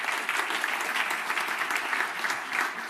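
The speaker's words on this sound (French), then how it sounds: "Nous vous applaudissons." Steady, dense applause from an audience, sustained clapping throughout with no voices standing out.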